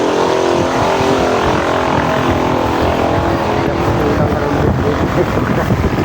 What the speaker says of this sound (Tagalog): Nahirap yung tricycle.